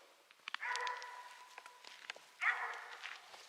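A search and rescue dog in training on a nature search barks twice out in the open, two sharp sustained barks about two seconds apart, moderately near, with faint footsteps between.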